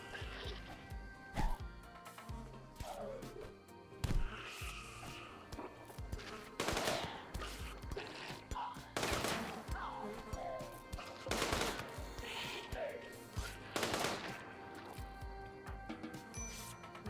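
Gunfire in the video game Rimworld crackles in repeated bursts and single shots, some sharp and loud, others quicker volleys, spread across the scene with game effects and a low mechanical rumble beneath.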